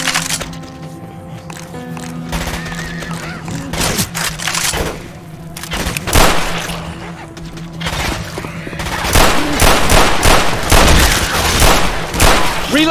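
Rapid machine gun fire in the horror video game Tokyo Dark, sharp repeated cracks in bursts over a droning background, growing denser and louder toward the end.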